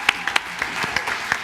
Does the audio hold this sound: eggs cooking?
no